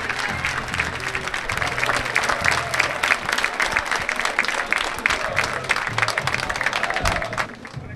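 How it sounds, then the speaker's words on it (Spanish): A crowd in the stands applauds at the end of a basketball game between Flandria and Morón, a dense, loud wash of clapping that holds steady throughout and eases slightly at the very end. "Escuchen los aplausos."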